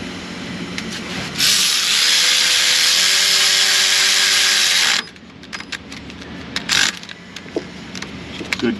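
A power tool whirs steadily for about three and a half seconds as bolts are run down on an alternator bracket of a Nissan Frontier 3.3 4x4, followed by scattered metallic clicks and light clanks.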